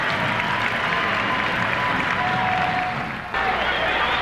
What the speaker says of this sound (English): It's been a nice touch by the fans of the Detroit Pistons here at the Palace as they continue to applaud for the Pistons